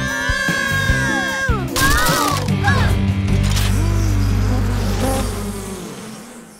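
Bees buzz around a mud-blocked beehive in an animated cartoon, with a droning insect hum under music and character voices.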